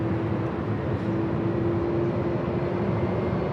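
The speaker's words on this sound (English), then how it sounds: "This is Delta 979 taking off to JFK" Delta 979, a heavy jet airliner, takes off at LAX with a steady broad roar and a constant tonal hum, heard from a distance without voices.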